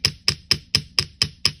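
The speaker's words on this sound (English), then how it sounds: "So I'm just going to give that a light hammer up here around the top" A small hammer lightly taps jewelry wire, seven even, crisp metallic strikes at a steady rhythm, close and clear with no talking.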